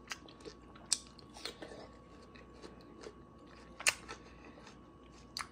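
Crunchy, sweet fresh fruit being bitten and chewed, heard as faint, scattered crisp crunches with a few sharper bites at irregular intervals over a quiet background.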